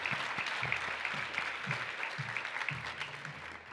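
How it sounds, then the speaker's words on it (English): An audience at a philanthropy luncheon claps for honorees, a continuous, dense round of applause at moderate loudness, steady throughout with no voices on top. "Let's have one last round of applause for all of our honorees today"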